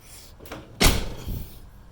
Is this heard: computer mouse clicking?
no